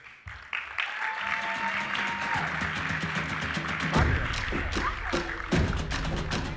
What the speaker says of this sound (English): Round of applause for Carrlyn Bathe.